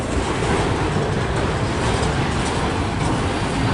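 A CSX freight train rolls past at close range in Fostoria, Ohio, a loud, steady broadband roar of rumbling wheels and rattling cars that holds without a break.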